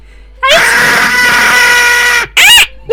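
A single voice lets out a long, loud, strained scream imitating a giant roc bird, holding it for nearly two seconds before a short second shriek.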